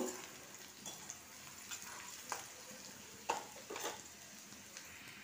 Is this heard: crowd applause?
no